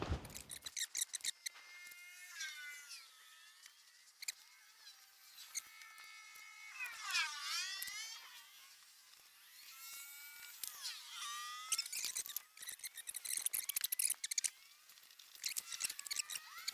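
Scissors snip through a thick fuzzy lining while fitting headlights and a heater box on a 1983 BMW K100 motorcycle, a close, rapid run of rasping cuts with brief pauses between bursts.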